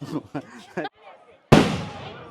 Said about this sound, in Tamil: பட்டாசு பயங்கரமா இருக்கு.